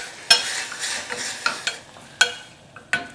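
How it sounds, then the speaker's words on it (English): Ground pork fried in a pan with sesame oil, black pepper and soy sauce, stirred with a utensil in a series of sharp scrapes and clacks over a soft, steady sizzle, close and fairly loud. "Keep cooking until the pork is thoroughly cooked."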